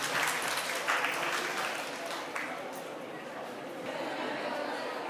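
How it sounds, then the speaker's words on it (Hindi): Fairly faint, steady clapping from a group in a room, with some chatter mixed in, continuing for a few seconds at an even level. "गुड, जोरदार तालियां उन्हीं के लिए।"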